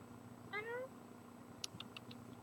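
A cat meows once, faint and fairly distant, over a low steady background hum, followed by a few soft clicks.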